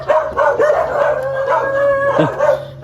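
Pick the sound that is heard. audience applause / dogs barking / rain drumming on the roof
dogs barking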